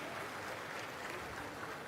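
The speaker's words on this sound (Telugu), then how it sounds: "గట్టిగా చప్పట్లు కొట్టి అభినందించండి." Applause from an audience at a Chief Minister's Sanjeevani government programme in Kandriga, Puthalapattu constituency, a steady dense wash of clapping filling the whole stretch with no voice over it.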